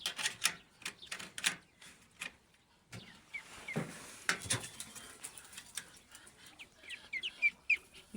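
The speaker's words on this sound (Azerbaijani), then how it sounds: "Baxın, yavaş-yavaş xoruza yaxınlaşırlar fərələr." Hens and a rooster cluck and peck near the coop, making short, sharp bursts of clucks and scratchy taps in irregular clusters, fairly close with quiet gaps between.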